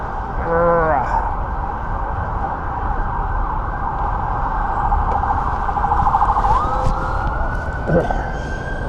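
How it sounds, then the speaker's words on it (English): A wailing emergency siren sweeps up and down continuously over steady street noise in Washington, D.C., fairly loud and sustained throughout. "the national sound of Washington is the siren"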